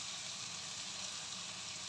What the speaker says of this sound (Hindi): तो अभी थोड़ी देर के लिए मसाले को अच्छे से भून लूँगी मैं।